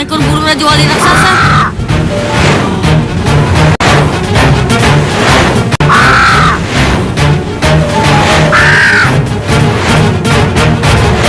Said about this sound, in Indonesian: Wah, seekor burung raja wali raksasa.